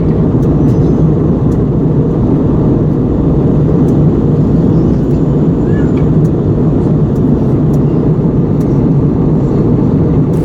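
An India Express airplane cabin just after landing at Kolkata airport fills with a loud, steady engine roar and rumble, with a few faint clicks on top.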